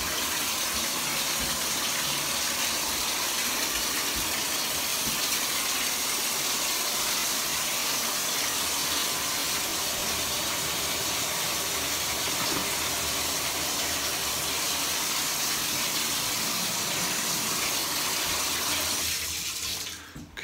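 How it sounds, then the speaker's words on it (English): Water runs from the bathtub and sink taps in a remodeled bathroom during a drain test, a continuous loud rushing gush that holds steady for about twenty seconds before tapering off at the end. "drain lines for the sink and the tub appear to be working well"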